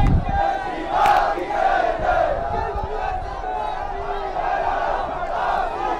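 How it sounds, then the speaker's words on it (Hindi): Roadside crowd at Amit Shah's election road show in Nathdwara, Rajasthan, producing a continuous loud murmur of chanting and shouting voices, with a reporter talking over it. "बड़ी संख्या में वहां पर भीड़ भी इस वक्त दिखाई दे रही है।"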